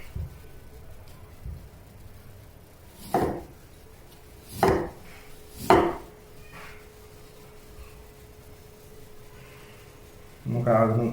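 A knife chops through four potatoes on a board with three sharp, separate cuts spaced a second or so apart. Quiet stretches fall between them, and a louder clatter comes at the end.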